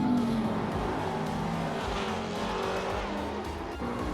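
Two McLaren 650S cars race in a video game, engines roaring continuously with a rising whine at the start and a brief tire squeal, dense and loud throughout.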